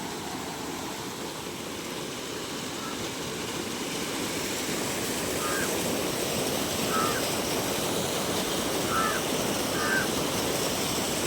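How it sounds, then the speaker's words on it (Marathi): Steady, broad rushing of fast-moving floodwater through a rice field, continuous and close, with wind buffeting the microphone and no voices. "तो बघा किती स्पीडने पाणी आलेलं आहे"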